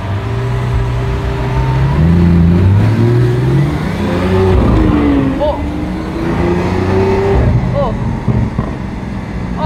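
A Lamborghini Veneno Roadster supercar's engine revs and accelerates loudly up close, climbing and dropping through several gear changes, and people talk over it.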